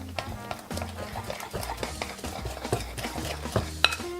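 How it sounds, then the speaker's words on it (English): A ham glaze of maple syrup, orange zest and pineapple being stirred in a pan, a spoon clinking and scraping in quick irregular strokes with a light simmer beneath, close by. "So now we need to give it a little mix."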